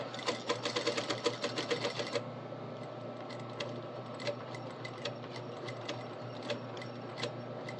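A sewing machine stitches an Edwardian collar, starting with about two seconds of fast, loud stitching, then settling into slower, lighter ticking of the mechanism nearby.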